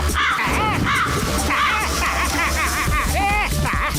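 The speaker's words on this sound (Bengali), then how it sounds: "শহরে মিথ্যে ধরার কাক চলে এসেছে।" Cartoon crow cawing repeatedly over a busy, continuous music-and-effects bed, loud and close, with harsh rising and falling calls throughout.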